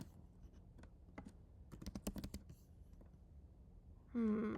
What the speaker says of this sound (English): I guess I'll just type in iced.